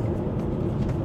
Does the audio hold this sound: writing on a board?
no